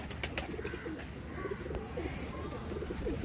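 Soft pigeon coos repeat faintly on a rooftop in inner Lahore against a low background rumble, with a few light flutters and taps.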